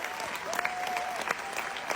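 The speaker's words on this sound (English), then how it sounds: "We're still clapping." Audience clapping, a steady wash of applause from a crowd at moderate level with faint voices talking over it.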